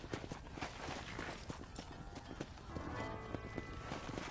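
Horse hooves clip-clop steadily at a walking pace in a Western ranch video game, close and rhythmic over soft ambient game sound.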